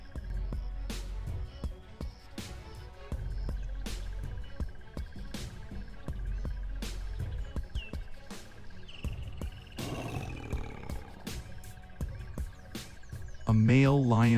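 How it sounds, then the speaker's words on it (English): Insects chirp at night on the African savannah as a thin, steady high drone, faint and continuous, beneath low rumbling and other scattered wild sounds. "when the sound of insects spreads evenly across the plains"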